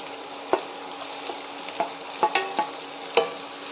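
Chopped green chilies sizzle steadily in a pan for watermelon rind pickle, with irregular spoon-stirring clicks and scrapes over the continuous frying hiss.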